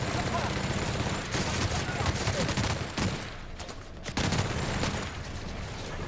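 Gunfire in the video game The Outer Worlds, a dense, loud fusillade of rapid shots that drops out briefly before resuming, with a voice speaking over the shooting.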